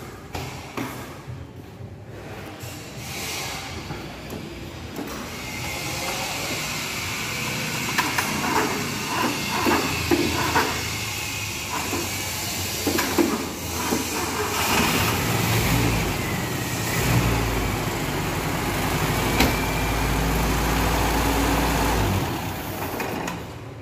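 A Toyota Kijang 5K engine runs with a steady low rumble and a broad hiss throughout, revving and rising in loudness toward the end, with scattered knocks and clatter nearby.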